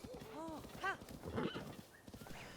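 A horse in the video game Breath of the Wild, heard running with quick hoofbeats and whinnying neighs, faint and game-like, with a voice faintly underneath.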